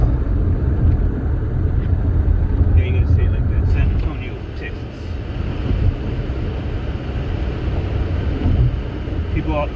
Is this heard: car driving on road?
yes